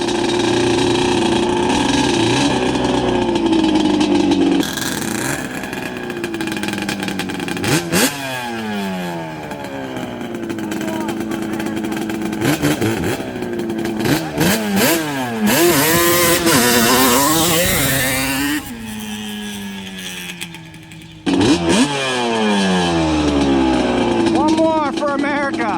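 A Yamaha Banshee 350 ATV engine screams and revs hard while power clutching, its loud two-stroke pitch sweeping up and down repeatedly close by, with a person talking over it.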